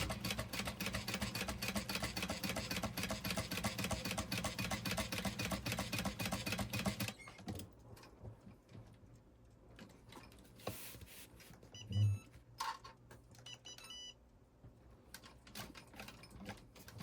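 A sewing machine backstitches through fabric, running in a loud steady rapid stitching whir for about seven seconds, then quieter scattered clicks and handling noises follow, with one brief thump.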